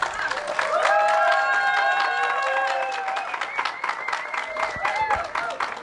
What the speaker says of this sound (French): Une fois de plus, un tonnerre d'applaudissements pour Maïmou, s'il vous plaît.